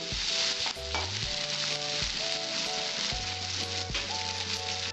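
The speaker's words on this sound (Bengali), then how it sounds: "আমটা একটু আমি ভেজে নেব।" Raw green mango pieces fry in hot oil in a pan while being stirred, giving a steady, loud sizzle broken by repeated scraping and stirring strokes throughout.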